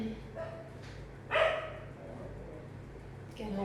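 Neighborhood dogs barking outdoors at a moderate distance: a couple of sharp barks, one louder bark in the middle, then another near the end, over a quiet background hum.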